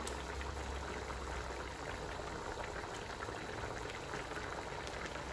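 Spicy Thai pork leg curry with kaffir lime leaves and seasoning simmering in a pot, a faint, steady bubbling and hiss throughout with no voices.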